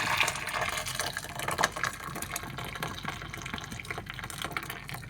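Water poured into a pot on the stove for Somali tea, a steady close splashing and gushing that runs for about five seconds at moderate loudness with no talking.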